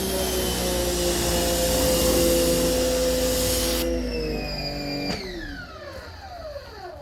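A Giraffe Tools electric pressure washer runs with a steady motor whine and hiss, then the pitch drops and sweeps downward as the motor slows and spins down.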